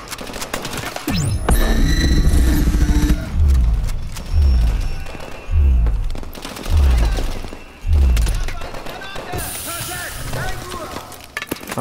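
Rapid bursts of automatic gunfire from an AK-12 rifle in Call of Duty: Advanced Warfare, loud and close, coming in several rhythmic volleys over a low game hum.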